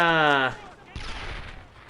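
Gunfire in the World War II shooter game Brothers in Arms: Earned in Blood, during a fight to take a church. A shouted voice comes first, then a loud, sustained burst of overlapping shots.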